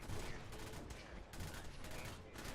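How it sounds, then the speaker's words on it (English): Rapid volleys of game cannon fire boom and crackle in dense bursts, close and loud, repeating several times over a steady rumbling background with faint voice underneath. "maybe I need to fire the cannons individually"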